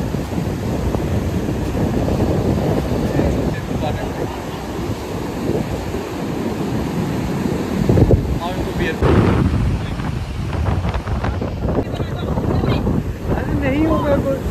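Rough rainy-season surf at Anjuna Beach in Goa roars and crashes steadily in a loud, continuous wash mixed with wind buffeting the microphone, while a person talks over it.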